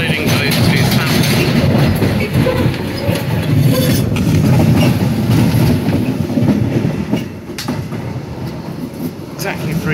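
A London Underground Jubilee line train runs between Stratford and Stanmore, with a steady loud rumble of wheels and carriage noise throughout and occasional rattles and clacks of the track.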